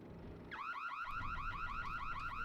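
In Super Mario Galaxy, an alarm kicks in abruptly after a short quiet stretch, a rapidly warbling electronic siren that cycles up and down in quick repeated sweeps, loud and continuous to the end.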